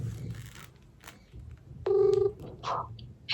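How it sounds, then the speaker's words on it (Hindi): A phone call goes out, with one short electronic ringback tone heard clearly over a quiet background, surrounded by faint handling and rustling noises. "मैं 5वां कॉल कर रहा हूँ मैं।"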